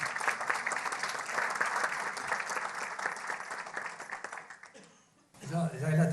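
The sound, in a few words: audience applause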